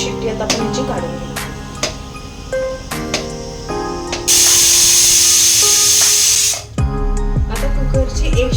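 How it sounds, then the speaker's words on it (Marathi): Kitchen pressure cooker on a gas stove, cooking yakhni pulao, lets out a loud, steady hissing whistle of escaping steam for about two seconds, with someone talking and utensil clinks before and after. "आता कुकरची 1 शिट्टी झालेली आहे."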